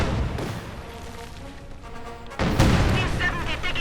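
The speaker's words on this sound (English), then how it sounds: "But Panzerabwehrkanone fires away from a nearby hidden position in the bush and gets off a nice hit there on the T-70." A concealed Pak anti-tank gun fires on a T-70 light tank during a Company of Heroes 2 battle. Dense gunfire and rumbling battle noise carry throughout, and a loud, sharp blast hits at the midpoint and keeps the racket heavier afterward.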